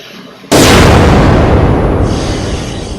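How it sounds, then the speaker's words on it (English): A sci-fi pulsar barrage blast: a sudden loud boom after a brief quiet lead-in, followed by a long crackling, rumbling decay that slowly fades. "she triggers yet another pulsar barrage"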